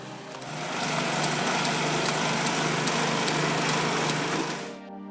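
A homemade firewood processing machine with a saw and splitter runs close and loud, a steady high whine with a grinding, buzzing edge that swells up, holds for several seconds, then cuts off abruptly.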